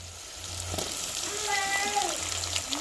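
Onions, garlic, green chillies and tomatoes sauté in a pan for a fish curry masala. A soft, steady sizzle runs underneath while someone talks over it.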